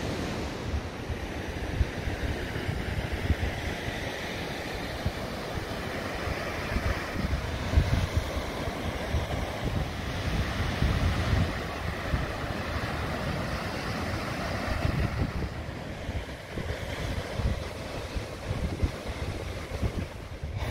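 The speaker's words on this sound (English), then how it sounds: "Let's go for a short stroll on this amazing beach." Waves and wind on a beach at Tofo, Mozambique: a constant roar of surf washes over heavy, gusty wind buffeting the microphone, with rising and falling swells and no voices.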